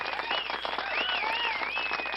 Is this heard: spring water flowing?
no